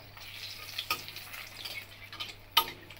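Whole spices—cinnamon, cardamom, cloves and bay leaf—frying in hot oil for a chicken curry, a steady soft sizzle with a few sharper pops and crackles standing out.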